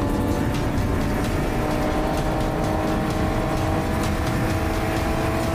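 A car drives steadily with a loud, continuous engine and road roar, close and unbroken, with no voices over it.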